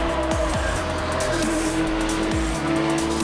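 Porsche GT3 Cup race cars accelerate away at Brands Hatch, engines roaring loud and close with rising and falling gear-change sweeps, a dense pack of cars racing on the run to the first corner.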